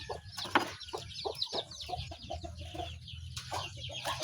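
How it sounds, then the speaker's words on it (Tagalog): Chickens roaming free in a farmyard cluck and squawk in a busy, overlapping chorus, with many birds calling close by and steady rustling farm ambience underneath. "dami yung mga manok"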